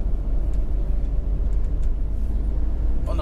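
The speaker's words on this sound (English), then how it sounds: "The road noise is just horrendous." Steady low tyre roar inside a VW camper van running on Michelin CrossClimate SUV all-season tyres, a dense continuous rumble heard from the cabin with faint rattles and no talk.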